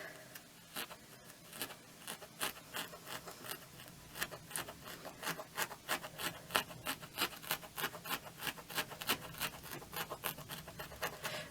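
Rapid, steady stabbing of a felting needle into wool while shaping a hand-felted flower, a dense run of soft crisp scratchy pokes repeating close up and fairly quiet, with no talking.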